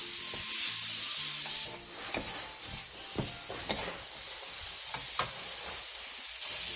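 Radish stir-frying in a pan over medium-low heat, a soft steady sizzle with occasional light scraping ticks from stirring, fairly quiet throughout.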